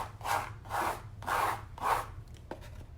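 Palette knife scraping paint across a canvas, four rhythmic scratchy strokes close to the mic followed by a few lighter scrapes, with no talk.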